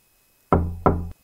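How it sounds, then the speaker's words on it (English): Two firm, close knocks on a door in the horror video game The Crooked Man, evenly spaced, each with a short, hollow resonance, heard alone in near silence. "Knocking gets no response."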